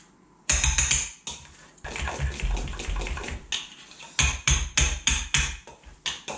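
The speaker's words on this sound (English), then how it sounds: "most homes have got a masher, so what we're going to do is just squish them as much as we can" Boiled eggs squished with a potato masher in a bowl for egg mayonnaise: a run of sharp, close knocks and clanks in uneven bursts, with short pauses between them.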